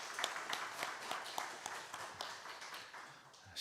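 Congregation at a Sunday church worship service applauding, a fairly quiet, dense patter of clapping that continues steadily throughout.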